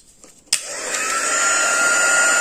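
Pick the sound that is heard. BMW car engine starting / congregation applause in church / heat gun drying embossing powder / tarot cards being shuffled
heat gun drying embossing powder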